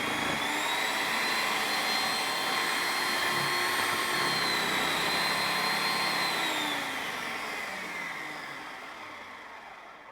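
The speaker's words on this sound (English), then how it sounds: "Obviously we're not trying to grate our tomatoes, basically we're just going to try to process them down." A food processor chops tomatoes in one continuous loud whirring motor run that holds steady for about seven seconds, then gradually winds down and fades as the blades slow.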